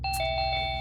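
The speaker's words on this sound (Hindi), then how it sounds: "घंटी चलाएगा क्या?" An electronic doorbell rings indoors, a clear ding-dong chime with a sustained ringing tone, close and loud, lasting just under a second.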